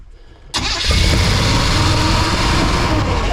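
A vehicle engine catches with an abrupt start, then holds a loud, steady, high idle close by, a continuous rough drone with no revving.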